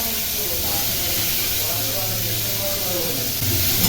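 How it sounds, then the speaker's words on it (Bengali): Bitter gourd fries in hot oil in a wok, giving a steady, dense hiss that runs unbroken throughout, with low rumbling underneath. "তেল গরম হয়ে গেছে। উচ্ছে ভাজাটা দিয়ে একটু নাড়াচাড়া করি।"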